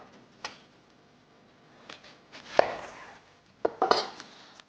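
An onion is cut on a board with a knife, a handful of sharp, close chops scattered irregularly across a quiet background.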